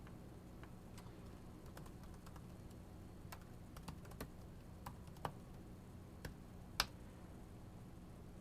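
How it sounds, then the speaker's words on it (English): Sparse keystrokes on a computer keyboard while an email address is typed: quiet, scattered clicks with uneven gaps over a low room hum, and one sharper tap near the end. "I'm going to type my email in here."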